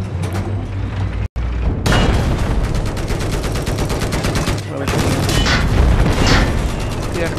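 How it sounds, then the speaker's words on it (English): Battle sounds from the Battlefield 4 video game as an enemy tank blows up: dense, loud rapid gunfire and blasts run almost continuously, broken by one brief dropout, with heavy booming explosions toward the end. "The enemy tank that just blew up."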